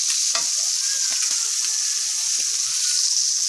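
Shrimp frying in oil in a pan, a steady bright sizzle throughout with occasional small pops and stirring clicks, close and fairly loud with no talking.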